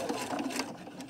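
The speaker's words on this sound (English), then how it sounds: "I'm going to sew to this opposite corner" A sewing machine runs steadily, stitching an X across a square on fabric to reinforce the handle seam of a simple shopping bag. The buzz is close and continuous, with no talk.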